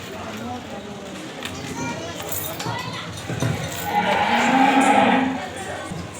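A cow moos loudly and drawn-out near the end, rising over background chatter and children at a live Navratri festival drama performance outdoors.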